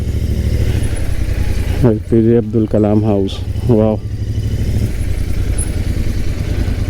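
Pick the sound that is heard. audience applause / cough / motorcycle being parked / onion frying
motorcycle being parked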